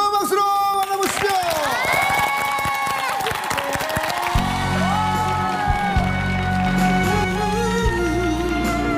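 A studio audience applauds and cheers to welcome two trot singers onto a TV show stage, a busy, sustained clatter of claps mixed with bright music and vocals.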